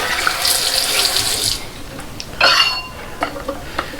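Tap water running loudly into a sink while a shaving brush is rinsed, a steady close splashing that cuts off midway, followed by a few wet drips and brush handling sounds.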